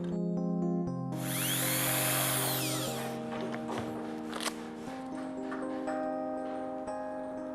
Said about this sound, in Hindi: ड्रिल मशीन से पायलट होल बनाओ।